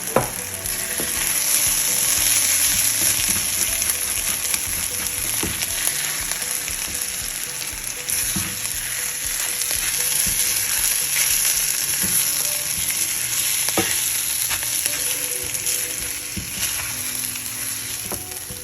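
Blended masala fries loudly with potatoes in a hot pan, a steady close sizzle broken by scraping stirs throughout, with no talking.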